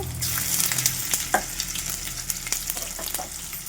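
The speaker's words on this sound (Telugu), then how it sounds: "అల్లం వెల్లుల్లి పేస్ట్ వేస్తున్నాను" Ginger garlic paste sizzles and fries in a hot pan for avakaya biryani, a steady, loud crackling hiss with stirring scrapes and small pops throughout, no talking.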